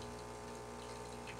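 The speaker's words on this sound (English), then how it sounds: "Here is a close-up shot of the machine making some espresso." A Gaggia Brera automatic espresso machine makes espresso with a dense, continuous pumping buzz and rattling mechanical hum, close and steady throughout.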